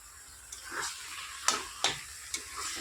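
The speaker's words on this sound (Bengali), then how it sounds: "মশলাটাও দিয়ে দেব দিয়ে ভালোভাবে মিশিয়ে নেব" Spices being stirred into food frying in a pan, with a steady sizzle under a few sharp scraping clicks of the spoon against the pan, close and moderately loud.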